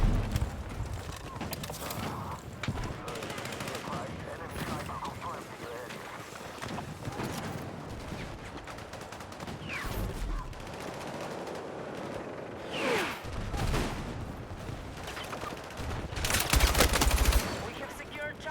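Gunfire in the video game Battlefield 6 multiplayer, rapid bursts of automatic fire and scattered shots mixed with battle noise, loud and continuous, with a player talking over it.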